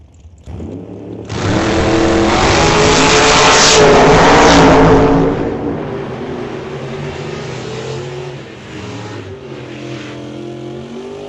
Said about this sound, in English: 1966 Chevy 2 down in 847 against Mark Thompson